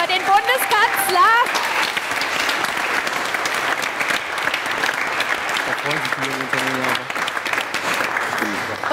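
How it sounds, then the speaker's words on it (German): Audience applause for the winner at a live comedy contest finale, sustained dense clapping from a crowd while voices speak and sing over it at the start and again near the end. "Nochmal kurz ganz schnell Applaus für den Bundeskanzler."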